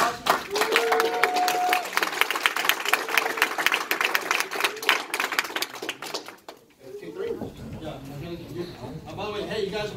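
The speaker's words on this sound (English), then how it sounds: "Give yourselves a big round of applause" A crowd at a club meeting claps in a big round of applause for themselves, dense clapping that thins out partway through, followed by scattered noise and murmuring.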